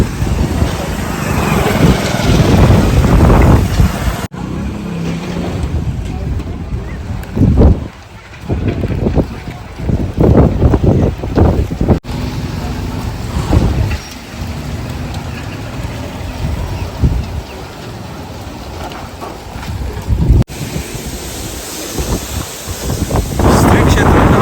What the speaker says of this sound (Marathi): जोरात वारा सुटलेला आहे